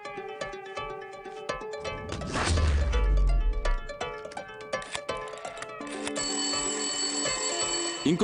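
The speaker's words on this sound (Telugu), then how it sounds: "ఇంకో నెంబర్ నుంచి మనం ట్యాప్ చేస్తున్న నెంబర్ కి కాల్ వస్తుంది సార్" A phone rings with an incoming call to a tapped number during a CBI raid scene, a bright bell-like ringtone that repeats steadily and grows clearer toward the end over a louder low rumble.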